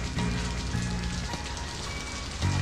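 Steady rain patters on surfaces throughout while someone walks outdoors, a dense, continuous hiss with a few louder low bursts near the start and end.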